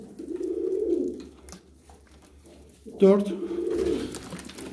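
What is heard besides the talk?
pigeons cooing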